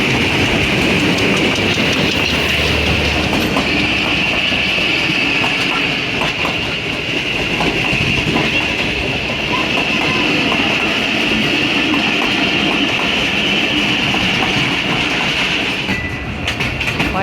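The Awam Express passenger train passes close by, a loud continuous rumble and rattling clatter of carriages with a steady metallic whine of wheels on rail that lasts throughout, no voices.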